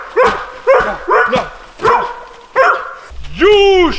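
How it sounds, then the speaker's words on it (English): Dog barking outdoors in the snow on a camping trip: five loud, close barks in an irregular rhythm, then a longer drawn-out howling whine at the end. "You shall not bark!"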